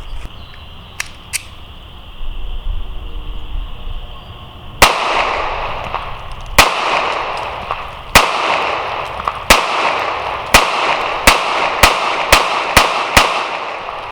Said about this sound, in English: I'm going to shoot it, see if this thing runs reliably